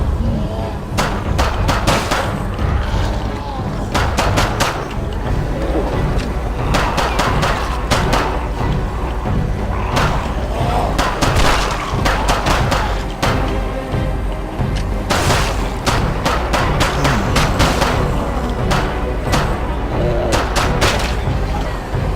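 Rapid bursts of gunfire from a post-apocalyptic zombie shooter on iOS, 2013: Infection Wars, crackle steadily and loudly through the whole stretch, with dense repeated shots and a few heavier thuds standing out.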